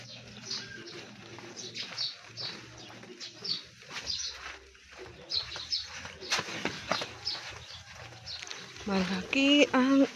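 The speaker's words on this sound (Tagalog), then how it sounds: "May tamsi. May ibon," Pigeons or doves coo and small birds chirp outdoors in a downtown area under a dark, overcast sky, fairly faint behind near, ongoing talk.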